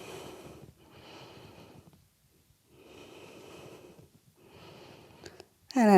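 Slow, deep breaths during a yoga standing split, several long inhales and exhales with audible airflow close to the mic, separated by short pauses and ending in a brief louder burst.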